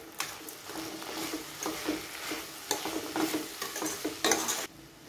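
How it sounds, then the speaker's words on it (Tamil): Chilli powder and vegetables being sautéed for vegetable brinji rice, a close, steady sizzle broken by repeated scrapes and stirs of a spoon against the pan, ending with a brief louder scrape. "இப்போ இதை சேர்த்து நல்லா வதக்கி விட்டுக்கலாம்."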